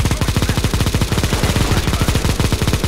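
Rapid automatic gunfire in CS:GO on the Mirage map, loud and continuous with a steady rattling rhythm of many shots across the whole stretch, nothing else heard.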